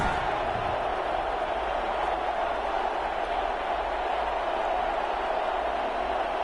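A stadium crowd before an NFL game between the Green Bay Packers and Tampa Bay Buccaneers makes a dense, steady roar of distant cheering that holds at an even level throughout.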